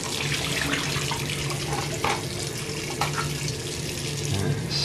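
Water runs steadily from a tap over plastic model kit parts, rinsing them after they were dumped from paint stripper, a constant close splashing with a few small knocks of the parts.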